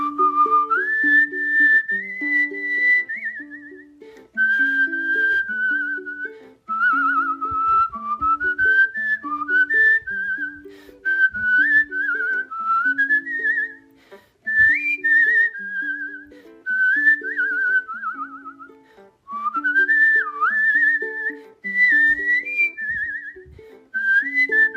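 A champion whistler and musician whistles a lilting melody, close and clear, with sliding notes and short breaths between phrases, over a soft plucked accompaniment.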